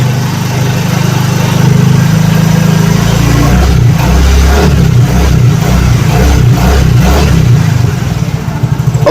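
A 2013 Yamaha Mio GT fuel-injected scooter engine runs loudly and steadily near the microphone, with a low, even throb that turns into a faster, pulsing beat partway through.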